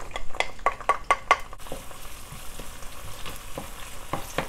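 Chilies, ginger and garlic hitting hot oil in a wok for a bitter melon and beef stir-fry, with a burst of sharp spatula scrapes and clacks, then a steady close sizzle with scattered stirring knocks.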